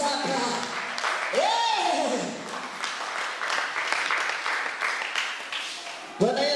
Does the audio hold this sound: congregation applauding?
yes